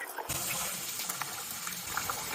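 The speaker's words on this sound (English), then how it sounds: "Wash the rice with room temperature water." Room-temperature tap water runs and gushes steadily into a bowl as rice is rinsed at a kitchen sink, a close, continuous splashing flow.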